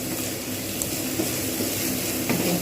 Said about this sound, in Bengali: বেশ কিছুক্ষণ সময় নিয়ে এটাকে ভালো করে ভেজে নেবো পেঁয়াজটাকে পেঁয়াজটা লালচে মতো করে ভেজে নিয়েছি